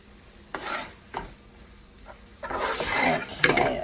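Cooked chicken for fajita pasta is scraped out of a sizzling pan into a bowl, with metal utensils clinking and knocking against cookware, a few sharp taps then busier scraping and stirring.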